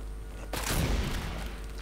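Gunfire in the zombie shooter No More Room in Hell erupts in a sudden loud burst partway through, followed by sustained dense shooting that fills the rest of the moment.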